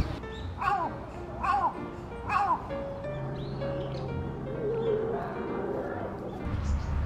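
Wild pigeons coo in a park in Yokohama, three clear rising calls near the start followed by softer cooing and other birdsong. Faint background hum runs underneath, and a narrator speaks quietly.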